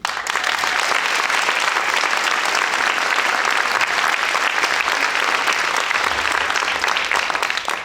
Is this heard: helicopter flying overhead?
no